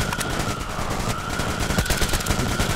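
Rapid, loud gunfire from a dirty, jamming weapon in the shooter game Metro Exodus, a dense stream of close shots rattling without pause.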